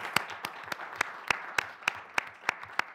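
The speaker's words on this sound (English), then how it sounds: "let's give our panelists a nice round of applause" Sparse, evenly spaced claps from a small audience thanking panelists at the close of a policy discussion event, roughly ten sharp hand claps in a steady rhythm, moderately quiet with no talk over them.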